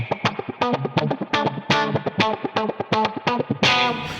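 Funk electric guitar played through an Ibanez AF9 envelope filter pedal, a steady run of short, choppy rhythmic stabs with quacky filtered tone, loud and close, no talking.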